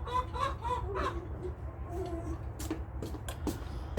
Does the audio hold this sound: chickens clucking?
yes